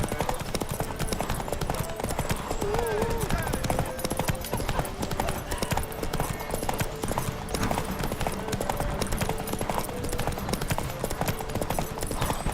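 A horse gallops steadily in a video game, hooves drumming in a fast continuous clip-clop rhythm that stays loud and close throughout, layered with game music and ambience.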